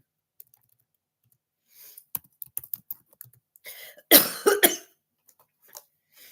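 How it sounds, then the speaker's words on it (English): A few scattered clicks and taps, then one burst of coughing, two or three harsh coughs close to the mic, followed by quiet. "my cough tasted like Pepsi"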